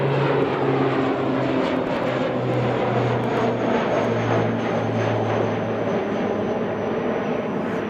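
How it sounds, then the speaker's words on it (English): Fixed-wing airliner taking off at Christchurch International Airport, a loud, continuous engine roar with a steady droning hum that holds throughout at close range, no voices. "What a nice takeoff. And not steep."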